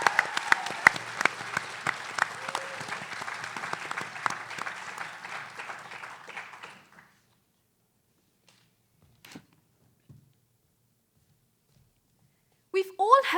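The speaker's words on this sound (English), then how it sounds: "you're going to clap massively for our 12th contestant from the Cotswold School" Audience applause greets a student contestant at a school science-communication final, a dense steady wash of many hands for about seven seconds, then fading to near silence with a few faint knocks and a brief burst of sound at the end.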